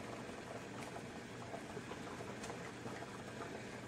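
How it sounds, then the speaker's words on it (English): Water at a steady rolling boil in a cooking pot, a continuous close bubbling and hiss that stays even throughout with no talk over it. "Alright, it's bubbling away."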